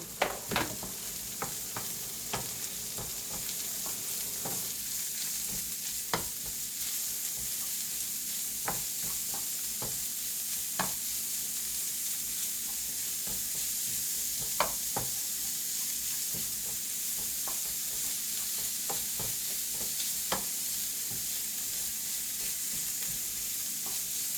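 Scallion and garlic frying in oil, with a Vietnamese chili also in the pan, giving a continuous hissing sizzle with scattered crackles and occasional utensil taps over a long stretch. No one speaks.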